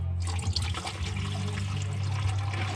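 Water gushes and splashes steadily out of a car cooling-system hose, a close, continuous rushing pour that begins suddenly and keeps flowing without pause.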